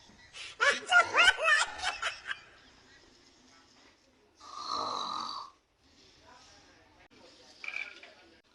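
A man snoring in bursts, with a nasal rasping snore and separate wheezing breaths between quieter gaps, close and fairly loud, with some laughter at the start.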